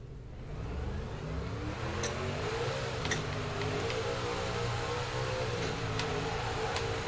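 A race car engine in the NASCAR 06 video game drones steadily as the car leaves the pits, its pitch rising and dipping slightly across the stretch, loud and continuous with no talk.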